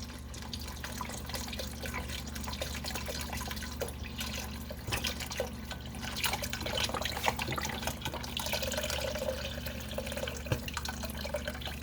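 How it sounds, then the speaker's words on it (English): Beef broth pours into a cooking pot for birria tacos, a steady splashing trickle close by with a low hum underneath and no speech. "We're going to put in our beef broth."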